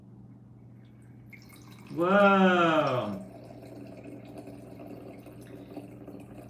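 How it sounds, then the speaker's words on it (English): A button-operated wine dispenser that uses argon gas pours, giving a brief rising whirring gush of about a second over a quiet room hum, with a voice exclaiming nearby. "you pour, but you pour by pressing this button right here"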